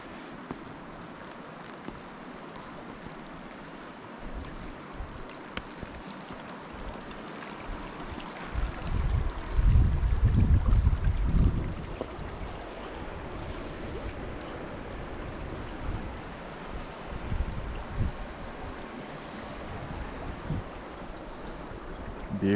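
Lime Creek flowing as a steady broadband wash of running water, swelling louder for a couple of seconds midway with some low rumble, then settling back to an even rush with no talking.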